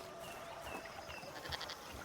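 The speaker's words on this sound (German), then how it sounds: "Sorry, aber ich habe jetzt eine persönliche Vendetta mit dieser Ziege." A goat bleats in the Indiana Jones and the Great Circle video game, with a few short, wavering cries among quiet game ambience and no talking.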